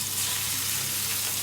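Freshly boiled kettle water hits a hot roasting pan from a roast beef dinner, giving a loud, steady hiss and sizzle that runs unbroken throughout, with no talking.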